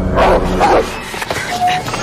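A dog barks and whimpers in a scene from Harry Potter and the Prisoner of Azkaban, giving a few close, sharp yelps over a busy film soundtrack with no clear speech.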